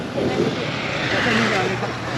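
A jet airplane passing low over Mai Khao beach in Phuket gives a loud, broad, steady roar that fills the whole stretch without a break.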